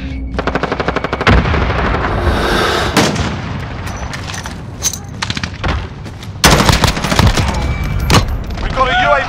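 Rapid automatic rifle fire from an M4A1-style AR-15 rattles loudly in Modern Warfare gameplay, with bursts running throughout and a heavy grenade explosion mixed into the firefight, joined by sharp impacts and a short voice over the battle.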